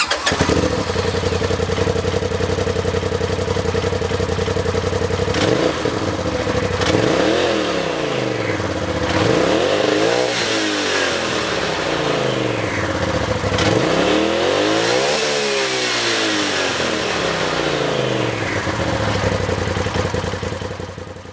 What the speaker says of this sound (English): Let's listen to how this exhaust sounds real quick.